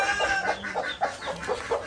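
A hen clucks near the microphone in a quick, steady series of short, throaty calls, several per second, with faint background noise and no speech.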